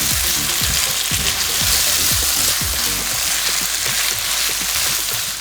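Diced onion sizzling and frying steadily in a pan, a continuous crackling hiss with occasional soft scraping knocks from stirring, close and fairly loud with no talk.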